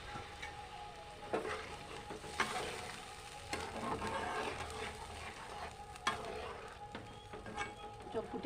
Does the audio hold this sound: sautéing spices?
yes